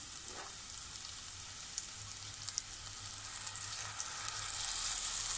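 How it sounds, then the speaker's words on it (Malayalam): Spice paste poured into hot oil in a clay pot for raw plantain curry, a steady close hissing sizzle that grows slightly louder toward the end. "ഈ സമയത്ത് നമുക്ക് തയ്യാറാക്കി വെച്ചിട്ടുള്ള അരപ്പ് ഇതിലേക്ക് ഒഴിച്ചു കൊടുക്കാം."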